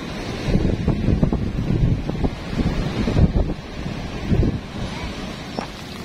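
Ocean waves surging in at high tide, carrying debris along the shore, with broadband wash and splashes rising and falling close by, heavy wind buffeting the microphone throughout.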